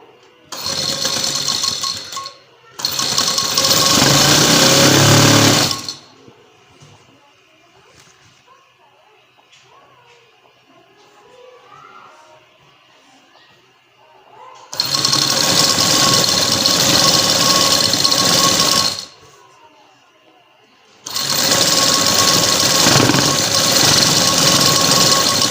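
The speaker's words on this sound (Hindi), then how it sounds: "उसके ऊपर रख के इसको सिलाई लगानी है" Sewing machine stitching a strip onto trousers, loud close bursts of rapid motorised stitching in four runs separated by quiet pauses with faint background sounds.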